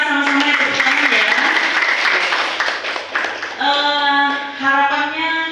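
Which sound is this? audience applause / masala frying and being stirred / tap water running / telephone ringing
audience applause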